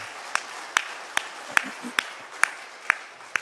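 Congregation in a church service giving a short round of applause, heard as a series of sharp, evenly spaced claps about every half second, fairly close and clear over a soft room hush.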